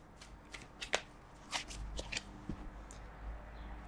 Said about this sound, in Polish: karty potasowane.